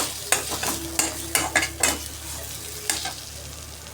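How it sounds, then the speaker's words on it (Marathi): Chili powder sautés in hot oil in a pan while making samosa filling, giving a soft sizzle under repeated scraping strokes of a spoon stirring the spices. "थोडंसं मिरची पावडर पण घालणार आहे आपण. ही पण आपण अशी तेलामध्ये परतवून घेऊया."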